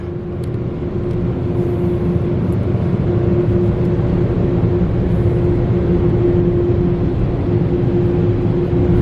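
A Belanger Kondor KL2 car wash at Ft. Lupton, Colorado runs its two drying blowers, a loud steady roar with a constant low hum that holds unchanged throughout with no voices.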